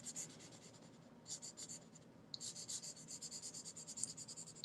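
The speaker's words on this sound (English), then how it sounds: "So let's take about a minute and just keep drawing." Pencil or pen drawing on paper, soft scratchy strokes in rhythmic bursts with short pauses, quiet and close in a calm room.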